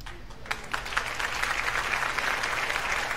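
Scattered applause from a small group during a rose-painting class: soft, continuous clapping that builds slightly, somewhat distant over a low background hum.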